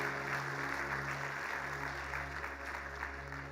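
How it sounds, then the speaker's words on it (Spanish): A church congregation claps together through a worship service, a steady, dense wash of applause over a low sustained hum and faint music. "Les damos un aplauso."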